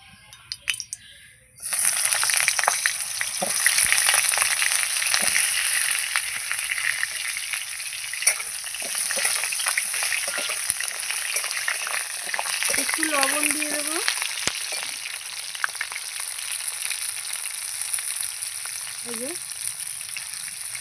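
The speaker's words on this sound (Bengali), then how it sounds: "এবার আমি পটলগুলো ভেজে নেবো" Pointed gourd (potol) pieces dropped into hot oil for a rice dish, starting as a sudden loud sizzle that holds steady and close, with scattered spatters and occasional utensil clinks.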